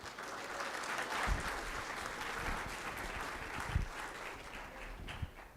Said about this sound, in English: Round of applause for Simon Fraser University.